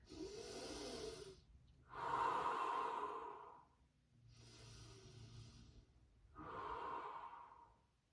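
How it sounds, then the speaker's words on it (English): Slow, deep breathing during a yoga forward fold for back strength: four long, airy breaths alternating in and out, close and quiet. "slow, deep breath in. Long, deep breath out. 3 more breaths here."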